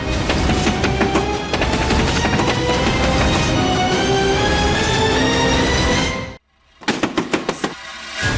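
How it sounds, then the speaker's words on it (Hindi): Someone pounds hard on a door inside a home, a fast, loud series of heavy bangs that runs for several seconds, cuts off briefly, then resumes with a few more sharp knocks. "ये दरवाजा क्यों ठोक रही हो?"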